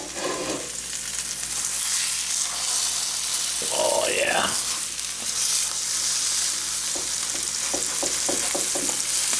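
Corned beef Reuben sandwiches frying in a pan, a constant loud sizzle that swells briefly as they are turned over, with scraping and clinking of a utensil near the end.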